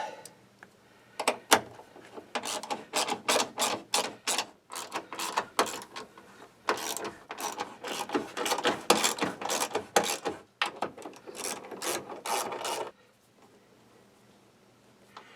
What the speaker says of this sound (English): I got a long socket. I'll feed it on there really fast.